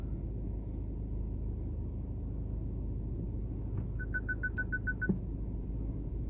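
A BMW 3 Series F30 318d diesel rolling off lift ramps in a workshop, a low steady engine rumble throughout, joined near the end by a quick series of repeated electronic warning beeps and a soft thump.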